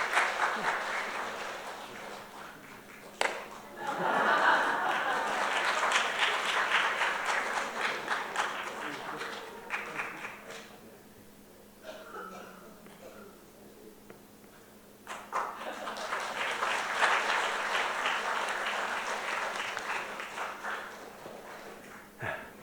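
A church congregation applauds together at a 52nd anniversary thanksgiving service during a cake-cutting, with two long swells of loud, sustained clapping separated by a brief lull and some voices in between.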